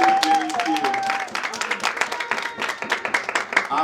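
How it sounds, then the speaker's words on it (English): An audience at a sports awards gala claps in a loose, fairly close stream of individual hand claps that thins into distinct claps toward the end, with faint tones early on. "If you are clapping, please clap for Level Playing Field."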